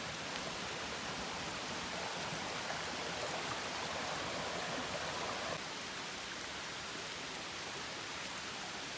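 Small trail creek on the Appalachian Trail in Pennsylvania, a steady broadband rush of flowing water with possible rain mixed in, continuous and fairly close throughout.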